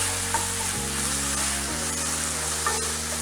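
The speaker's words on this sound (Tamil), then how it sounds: "தக்காளி போட்டுக்கலாம்." Tomatoes frying in a hot pan with chillies for a Tamil-style chutney give a steady, close sizzle that runs loud and unbroken, with faint stirring and occasional clinks of a spoon on the pan.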